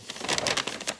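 Wrapping paper is folded down over a gift, giving a brief close crinkle and rustle of paper.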